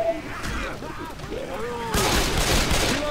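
Gunfire bursts in a zombie shooter video game, sharp repeated shots crackling over an ongoing game soundscape, growing denser and louder in the second half, with people talking alongside.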